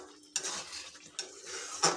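A spoon stirs mango chutney with raisins and cashews in a pan, quiet scraping punctuated by three sharp metallic clinks against the pan, with a faint sizzle underneath.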